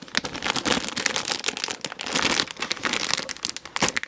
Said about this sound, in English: This is the plastic that's a bit more resistant, not as crinkly as the first bag.